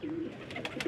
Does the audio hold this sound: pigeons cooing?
yes